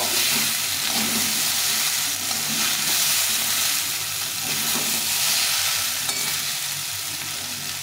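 Vegetables sautéing in a pan with ginger paste and cumin tempering, a steady sizzle under repeated stirring and scraping, close and even, without speech.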